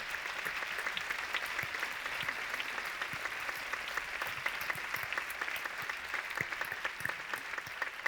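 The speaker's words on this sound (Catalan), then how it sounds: "per al que jo ara demano un fort aplaudiment" Steady audience applause fills a theatre gala honouring Valencian performing arts, dense, continuous clapping from a large crowd, moderately loud throughout with no voices rising above it.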